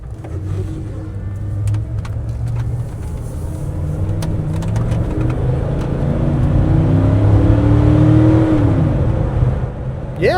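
A 1995 Ford F-150 Eddie Bauer 4x4 with the 5.0-liter V8 accelerating hard from inside the cab, a steady low engine drone rising in pitch through the gears, loud and continuous throughout.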